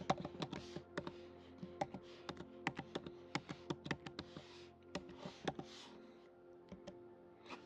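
Rapid, irregular keystrokes on a computer keyboard as a chmod command is typed at a Linux terminal, crisp and close with brief pauses between bursts of clicks and no talking.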